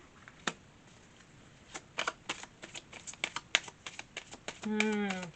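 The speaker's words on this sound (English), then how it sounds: "then it's a clean shuffle" A deck of tarot cards being shuffled close by, a quick series of sharp, crisp riffling clicks and taps, ending with a short stretch of voice.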